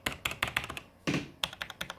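Keys on a Logitech gaming keyboard being typed on, close and crisp, a quick run of clicky strokes, a brief pause with one heavier thunk, then another burst of taps.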